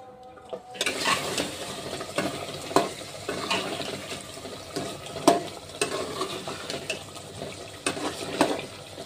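Meat stirred and fried in a pan, with repeated scraping stirs and clinks over a continuous sizzle, close and fairly loud, with no talking.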